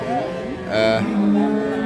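A dairy cow lets out a single loud, close moo at a rural cattle market in Dinajpur where milking cows are bought and sold, with faint murmur around it.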